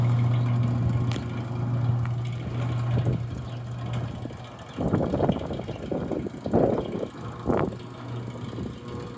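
A Berg SMC 1090 tumble mixer blender with a brand new motor and gearbox runs with a steady low hum, then several rougher bursts of rumbling and tumbling noise break in over the second half.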